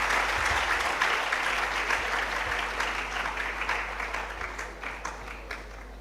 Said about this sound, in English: We will start by giving a round of applause to Baptist High School and Young Achievers.